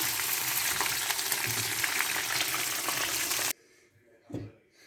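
Kayseri-style yağ mantısı dumplings frying in a pan give a loud, steady sizzle for several seconds, then it stops and quieter clatter and a short muffled knock follow.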